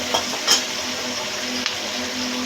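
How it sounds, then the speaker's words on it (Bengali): Steady oil sizzle from frying onions for an aloo katla fish curry, broken by a few brief scraping stirs of a spoon against the pan, close by with no voices. "পেঁয়াজগুলোকে ভালো করে ভেজে নেওয়া হচ্ছে।"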